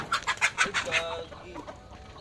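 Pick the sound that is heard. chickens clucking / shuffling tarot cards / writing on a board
chickens clucking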